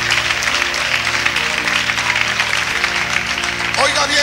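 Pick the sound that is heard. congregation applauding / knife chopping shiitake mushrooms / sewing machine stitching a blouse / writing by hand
congregation applauding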